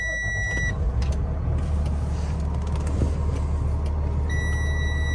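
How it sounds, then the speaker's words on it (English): Low air pressure warning in the cab of a 2020 Newmar Superstar 4061 Super C motorhome: a steady electronic beep tone sounds at the start and again near the end over a constant road and engine hum. "now it's beeping because we're low air"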